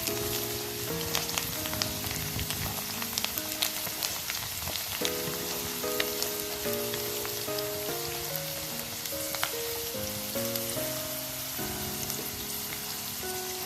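Garlic fries and is stirred in oil for a Kerala vadukapuli lemon pickle, a continuous crackling sizzle that runs steadily beneath louder background music.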